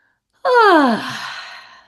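A single drawn-out yawn with a voiced, falling moan that trails off into a breathy exhale, close and alone.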